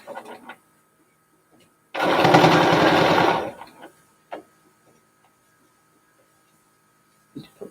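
A long arm quilting machine stitching a loaded pineapple quilt runs in a short, steady, buzzing mechanical burst of about one and a half seconds, with quiet talk and small handling noises around it.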